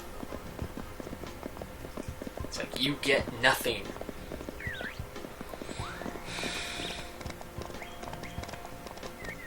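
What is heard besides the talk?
horse hooves clip-clopping in Mary-Kate & Ashley Winner's Circle PS1 video game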